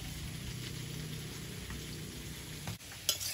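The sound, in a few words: potatoes frying in a pan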